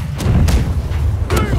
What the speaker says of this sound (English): Left cannons fired.